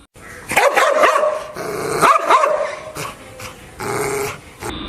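Several dogs bark, yip and growl in close, loud bursts, with short pauses between rounds of excited barking.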